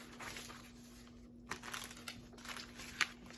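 Quiet crinkling of the paper packaging around a sheet mask, with scattered soft rustles and a few sharper crackles close up, set against a faint steady hum.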